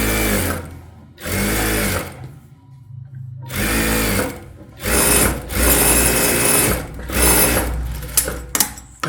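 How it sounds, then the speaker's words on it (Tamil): Sewing machine stitching a rough tacking seam on a crepe silk blouse, several loud whirring bursts of a second or two separated by short pauses, no talking. "சும்மா ஒரு ரஃபாக ஒரு தையல் போட்டுக்கோங்க"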